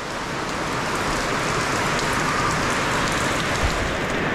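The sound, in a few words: heavy rain falling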